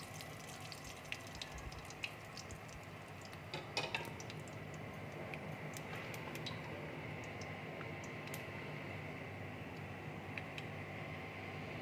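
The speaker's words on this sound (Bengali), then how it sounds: "তেল দেখো গরম হয়ে গেছে, এবার আমি কালো জিরে দিয়ে দিচ্ছি" Nigella seeds (kalo jeere) dropped into hot oil give a faint, steady hiss with scattered light pops and ticks running throughout.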